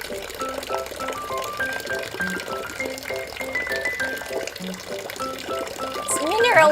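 Spring water pours steadily from a public street water station in Japan, a continuous running splash heard close by under a person talking throughout, growing louder near the end.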